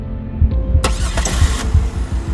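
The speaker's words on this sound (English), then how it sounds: "Jonathan started the engine." A car engine turns over and catches in a short start, then settles into a low pulsing rumble close by, with no speech.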